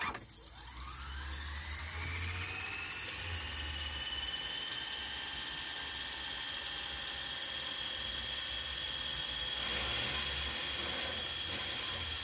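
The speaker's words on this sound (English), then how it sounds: "sorry about the drill noise out there." A high-pitched electric drill whines steadily, spinning up at the start and running continuously at a moderate distance with a low background hum.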